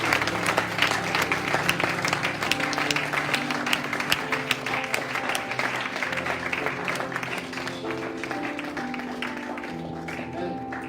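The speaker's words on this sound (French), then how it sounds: "Est-ce qu'on peut applaudir le nom du Seigneur?" A church congregation applauding after a worship service, dense sustained clapping from many people that gradually thins, with faint voices and music-like tones beneath.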